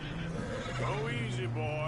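A horse in Red Dead Redemption 2 whinnies with a rising, wavering call, close and loud, over a steady low background hum.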